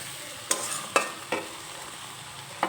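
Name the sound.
stirring fried eggs in masala in a pan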